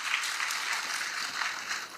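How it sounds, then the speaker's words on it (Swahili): Crowd applause at an outdoor public meeting in Siaya, Kenya, a dense, steady wash of many hands clapping at moderate distance, continuous throughout with no voices standing out. "Tujifikie makofi."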